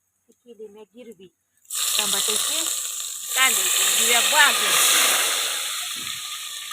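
Onion and tomato paste hits hot oil in a pot over a wood-fired village stove and bursts into a loud, steady sizzle that holds for several seconds, after a few brief spoken words.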